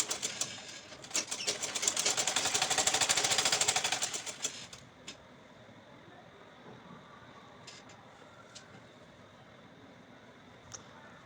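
A sewing machine stitches dress neck pieces together in a dense, fast, rattling run of about three seconds. It then stops, leaving quiet room tone with a few faint clicks.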